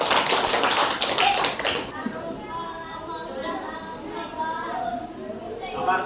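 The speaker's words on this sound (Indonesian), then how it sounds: "Kasih tepuk tangan." Hands clap in a dense burst of applause from a classroom of students for about two seconds, then stop, leaving a quiet room where someone talks.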